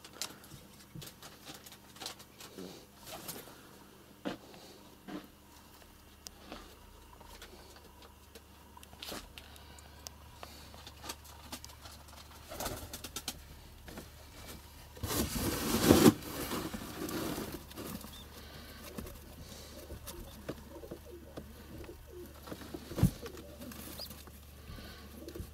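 Pigeons coo indoors in a room, soft, intermittent low calls with occasional fluttering and shuffling, and one louder burst of movement partway through.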